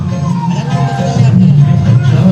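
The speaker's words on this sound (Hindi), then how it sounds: "बहुत ज़्यादा भीड़ है, बहुत ज़्यादा भीड़ है यहाँ पे" Dense crowd murmur at a busy Ganesh temple, a steady loud babble of many voices close around, with no single voice standing out.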